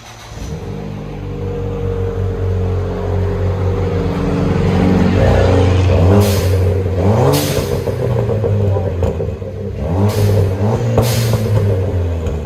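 Ford Fiesta ST fitted with a Thermal R&D cat-back exhaust, engine rumbling nearby and then blipped several times, each rev rising and dropping back with a short hissing release.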